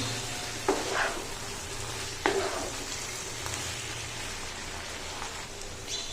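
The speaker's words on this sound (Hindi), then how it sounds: "अब इसमें हम बंद गोभी डाल देंगे, बारीक कटी हुई। इसको अच्छे से मिक्स करेंगे।" Finely chopped cabbage is added to a pan with cooked chicken and stirred, giving a soft, steady sizzle with two brief scraping stirs near the start and a faint low hum beneath.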